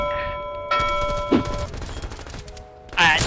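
Tracer AUG rifle gunfire in the video game Call of Duty: Cold War, short bursts of rapid shots with a sharp crack and a brief boom amid game sounds, a player's voice talking over part of it.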